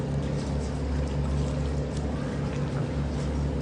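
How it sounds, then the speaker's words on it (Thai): A tugboat hauls a long barge upstream against the current on the Chao Phraya River, its engine a steady low throbbing drone under faint water wash, fairly quiet and continuous. "ลากพ่วง ใหญ่ๆยาวๆเนาะกำลังลากขึ้นมานะ ทวนทวนกับกระแสน้ำไหลนะ"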